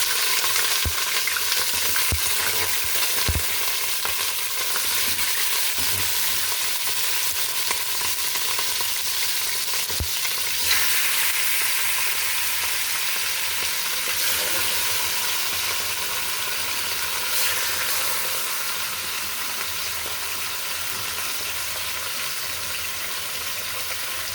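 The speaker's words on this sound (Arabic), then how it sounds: "انا عندي هنا المادة الدهنية هي قرحت، هنزل بقى بالأرنب كده" Rabbit pieces drop into hot fat for Egyptian-style molokhia, setting off a loud, steady sizzle and crackle of frying that continues unbroken throughout, with a few sharp pops and clatters of utensils early on.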